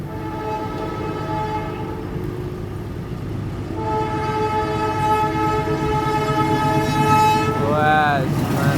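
A train at Kramasan station rumbles past steadily with a sustained tonal hum. A short horn toot comes near the end, and voices are audible faintly beneath the noise.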